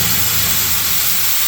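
Bay leaf, dried chilli and cumin sizzle in hot oil, a steady close hiss with faint crackle that continues without a break.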